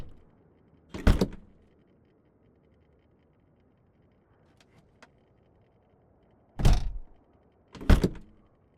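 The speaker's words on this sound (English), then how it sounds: "Close the doors up." Cockpit doors on a PA-38 in Microsoft Flight Simulator 2020 shut with three sharp thuds, one early and two close together near the end, each with latch rattle, separated by quiet with faint clicks.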